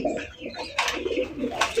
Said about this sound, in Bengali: একজোড়া লাল টুকটুকা দেশি বোম্বাই কবুতর বিগ সাইজের মধ্যে আছে